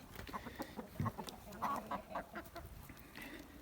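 Chickens cluck in a winter outdoor enclosure after being let out and fed, a few Leghorn hens among them, with scattered short calls and soft mutters coming at close to moderate distance, fairly quiet and irregular.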